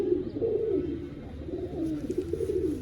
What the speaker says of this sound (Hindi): ये पक्की आँख का कबूतर है, पकी हुई आँख का।